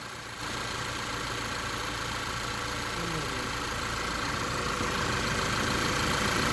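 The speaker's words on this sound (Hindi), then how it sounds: "एक पंखा चल रहा है और एक पंखा नहीं चल रहा है" A Skoda Superb with an overheating problem idles with its radiator cooling fan running, a steady loud whirring engine drone close by, with voices talking over it.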